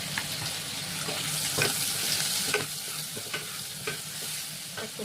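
Shrimp fry with salt and turmeric in a pan, greens waiting to go in, the oil crackling in a loud, close, continuous sizzle. Repeated scraping strokes of a spatula stir through it, and nobody speaks.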